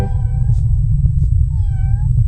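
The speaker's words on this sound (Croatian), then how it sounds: "Čujem mačku." A cat meows several times in short, high calls, close and clear over a low, steady rumble, with no talking between the calls.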